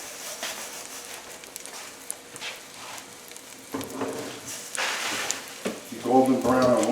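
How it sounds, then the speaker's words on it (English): Pork paillard sautéing in a pan over a fairly high flame, a steady close sizzle and frying crackle that swells in the latter half, with a voice speaking intermittently over it. "I like to saute it like this. Fairly high flame, not all the way."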